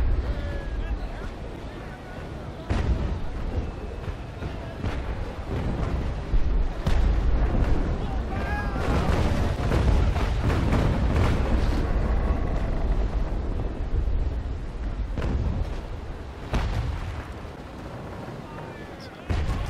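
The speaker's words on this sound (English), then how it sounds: "I've got to shoot the rear cannons again." Booming cannon fire and heavy explosions from a ship's rear guns in Naval Action Legends roll through a long, dense naval battle, with repeated thuds rising to a loud middle section before easing off.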